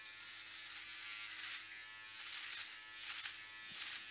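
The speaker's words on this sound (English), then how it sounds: "you can hear it catching the hairs." Close, steady high buzz from a Philips OneBlade electric shaver fitted with a size 5 comb trimming facial hair, with a faint crackle of hairs being caught and slight swells as it moves.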